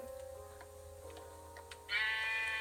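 A Minecraft sheep, the rainbow sheep Jeb, gives a short bleat near the end over soft game background tones and faint ticking, fairly quiet and with no talking.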